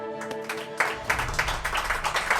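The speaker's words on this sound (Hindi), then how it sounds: "मकान मालिक बापोद्रा के लिए तालियां" Applause for the landlord Bapodra breaks out on a Hindi TV drama set, a burst of rhythmic clapping from several people that starts after a short musical tone and carries on steadily, fairly close.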